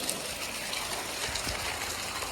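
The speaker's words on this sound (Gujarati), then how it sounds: "કવામાં પાણી આવે જો મોટર ચાલુ છે તે પાણી જાય છે ગટરમાં" Well water driven by a running motor pump pours steadily into a drain, a continuous close splashing and trickling rush with no break.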